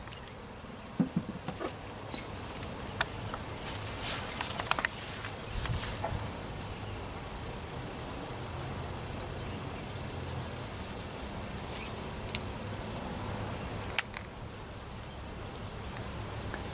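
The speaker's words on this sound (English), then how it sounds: "Oh, there's a lot of bees on top." Bees buzz around a hive box, a steady dense hum of many insects close by, with occasional brief knocks and handling noises over the continuous drone.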